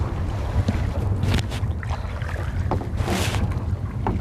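A canoe is paddled forward on open water during a paddling lesson, with soft, steady water swishes under constant wind rumble.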